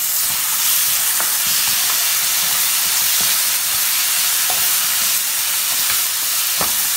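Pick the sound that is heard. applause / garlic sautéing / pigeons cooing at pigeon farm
garlic sautéing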